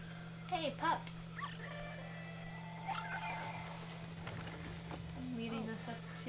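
Small dog yips and whimpers in the Luigi's Mansion 3 video game, a few short bursts under a steady hum, with people talking over the game sound.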